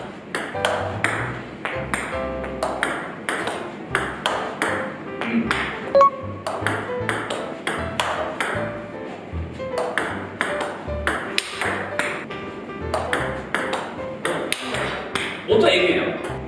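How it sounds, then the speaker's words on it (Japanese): Table tennis backspin drives hit with DNA Platinum rubber: a steady rally of sharp ball pings off bat and table, repeating at a regular rhythm, fairly close, with faint talk now and then. "下回転打ちやってみます。"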